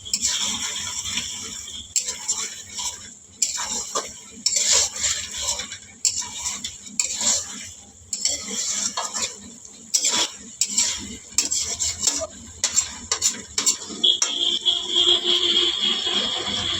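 Meat sautéing in a pot, releasing its oil, as a utensil stirs and scrapes it in frequent uneven strokes over a low sizzle, close and steady with no talking.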